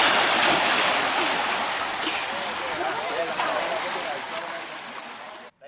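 Surf rolling onto a resort beach in Baja, a steady broadband wash with light wind noise that holds loud and continuous before cutting off at the end.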